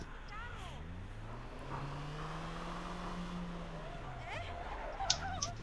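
A car in the APB video game drives along with a steady engine drone that rises and falls in pitch, with brief higher accents near the end and voices faintly present.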